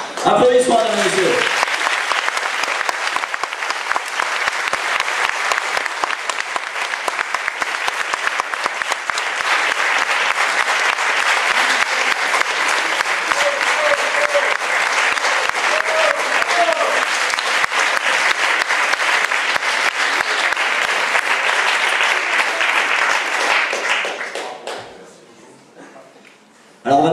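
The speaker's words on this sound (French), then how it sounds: "Applaudissements, mesdames et messieurs." Sustained, dense applause from an audience at a festival awards ceremony rolls on steadily for over twenty seconds before fading out near the end.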